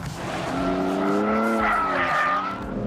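A BMW 3 Series engine howls at high revs while tires squeal in a sustained skid, loud and close, the pitch rising and falling through the drift.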